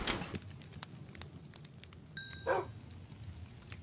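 Dog in the Minecraft video game giving a couple of short, light barks, with faint background game sounds and no talk.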